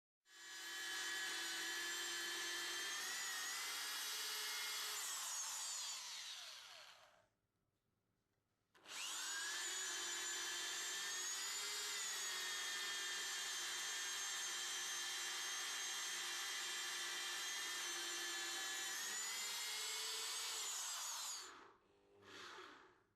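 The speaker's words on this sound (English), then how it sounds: "drill a 26 mm diameter hole to a depth of 185 mm" A power drill whines steadily as it bores a 26 mm hole 185 mm deep into a wooden door, running for several seconds, pausing briefly, then grinding on for a long second stretch.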